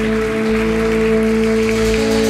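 A church congregation at a celebration service applauds loudly and continuously, a dense wash of clapping over steady sustained keyboard or organ tones.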